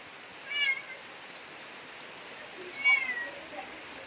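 A cat meows twice, with a short drawn-out call near the start and another a couple of seconds later, heard indoors on a rainy day against a soft steady hiss of rain.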